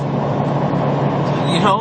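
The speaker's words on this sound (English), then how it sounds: "I'm going to continue driving." Car engine while driving: a steady, loud low rumble of road and engine noise runs throughout, with someone talking over it.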